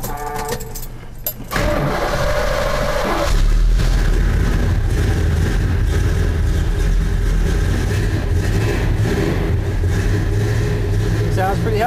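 A numbers-matching 1969 Oldsmobile W-30 V8 cranks and fires up after a few clicks, then settles into a loud, rumbling idle with occasional revs, heard up close with people talking faintly near the start.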